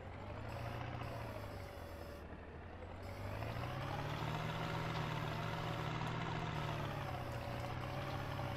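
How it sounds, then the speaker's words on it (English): A telehandler in Farming Simulator 19 pushes up a muck heap, its engine droning steadily and rising in pitch as it strains under load, a continuous close machine hum with no talk. "Pushing up a muck heap is always a good old test of a telehandler's strength."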